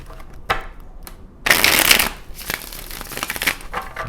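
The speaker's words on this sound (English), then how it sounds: "I'm going to do one more shuffle here" Tarot cards are shuffled up close in several quick riffling bursts. The longest and loudest burst sits in the middle, with short papery flutters before and after.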